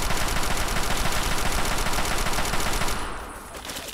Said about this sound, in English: Oh, this is the worst gunfight ever.